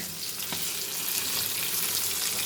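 Fish frying in a pan, heard as a steady, dense close-up sizzle with a faint crackle, continuous and without talk.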